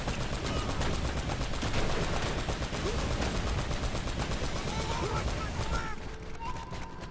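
Rapid, sustained gunfire from a mounted gun in the video game Uncharted: Drake's Fortune, a dense stream of loud shots continuing without pause, with honking, goose-like squeals breaking through near the end.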